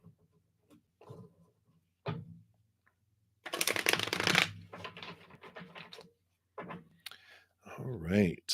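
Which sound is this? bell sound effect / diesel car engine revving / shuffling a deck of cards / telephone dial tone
shuffling a deck of cards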